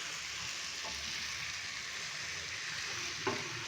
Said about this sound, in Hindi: 2 से 3 मिनट के लिए हम हाई फ्लेम पे चिकन को मसालों के अंदर अच्छे से फ्राई करेंगे